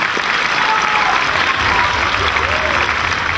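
Steady, loud audience applause at a children's music show in a concert hall, a continuous wash of clapping from a large crowd.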